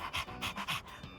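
A dog in the video game Persona 3 Reload pants close by in quick, rhythmic breathy puffs, about five or six in a little over a second, with no talking.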